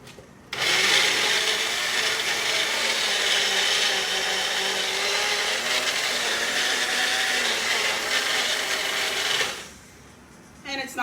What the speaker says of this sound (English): let's mash this up in the blender.